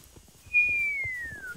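A single clear whistle that starts high and glides slowly downward, held for about a second with no voices around it.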